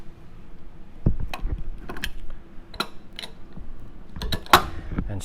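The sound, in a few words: tightening down the orifice on a Model 143 regulator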